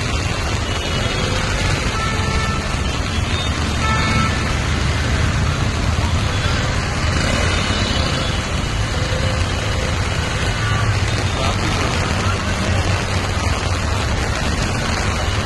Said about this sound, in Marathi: ट्रॅफिक बघा किती स्लो चाललंय गाड्या, पूर्ण रोडला पाणी भरलेलं आहे.